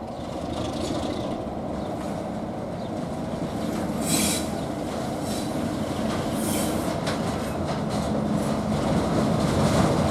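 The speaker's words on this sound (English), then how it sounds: "I think we've got a different train this time." Heritage railway train hauled by locomotive 33035 rolling past on the Wensleydale line, a loud continuous rumble of wheels and carriages with brief metallic squeals and rhythmic rail clatter, steady and close.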